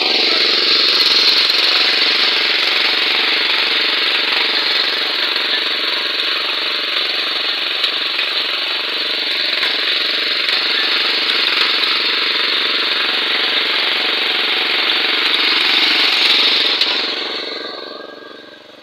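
A loud, constant tractor engine drone while sowing maize in a field in Himachal Pradesh, India, runs for the whole stretch and fades away at the end.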